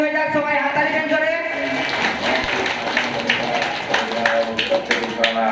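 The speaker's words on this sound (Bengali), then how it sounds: "এই বাচ্চাটার জন্য একবার জোরে হাততালি হয়ে যাক, সবাই হাততালি দেন জোরে।" An audience at an indoor program in West Bengal claps for a child, a scattered patter of hand claps rising under a prominent voice that carries on over the applause.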